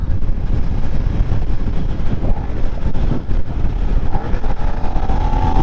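A Suzuki SV650 motorcycle engine revs hard on a late night ride, a loud continuous roar with wind rush, the pitch climbing toward the end.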